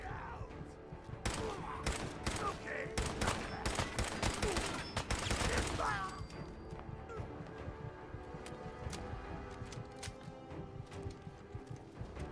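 Rapid bursts of gunfire in the video game Fallout 4, loud cracks clustered in the first half, then sparser, quieter shots against a busy game background with some speech.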